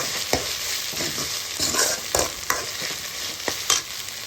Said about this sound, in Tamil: இப்போ நல்லா இஞ்சி பூண்டு வாசனை போகிற வரைக்கும் நம்ம நல்லா வதக்கணும்